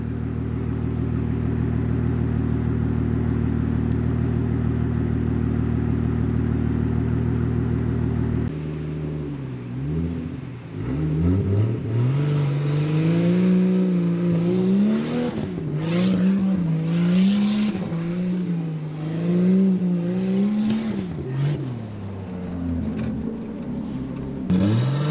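A drift car holds a steady high-rpm drone, then its engine rises and falls through repeated revs as tires squeal in long wavering screeches, loud and close without voices.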